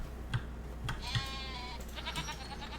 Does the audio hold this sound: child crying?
no